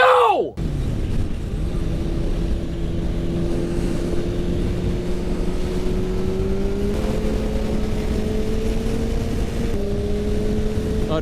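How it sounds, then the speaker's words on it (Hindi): Kawasaki Ninja H2 supercharged motorcycle engine holding a steady loud drone with rising harmonic steps as it revs, continuous and close, with a brief sharp burst at the start. "सुपर चार्जर सुनना है आपको?"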